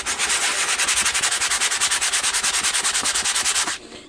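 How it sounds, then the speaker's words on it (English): Sandpaper rubbing over a painted canvas in steady, rapid back-and-forth strokes, a close, continuous rasping scrape that stops abruptly near the end. "move the sandpaper around, because the paint will get in between the sand or grit, and it makes it less effective."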